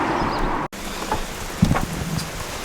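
Heavy summer rain pours down outdoors beside a car parked for brake painting, a steady close hiss of drops with light wind noise and a brief dropout partway through.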